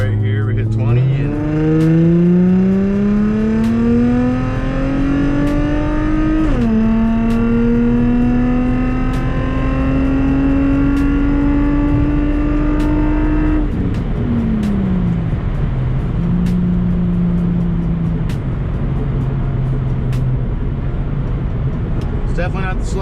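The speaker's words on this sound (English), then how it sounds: "Give it a little 20-mile-an-hour roll right here. We hit 20 and" Infiniti G35 sedan accelerating hard from a slow 20 mph roll, engine note climbing loudly through one gear, a brief dip at the shift, then pulling again before easing off near the end.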